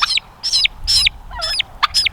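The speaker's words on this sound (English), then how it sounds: "It's a pretty cool looking bird." A turkey calls close by in a loud series of about six rapid, sharp yelps with short gaps between them.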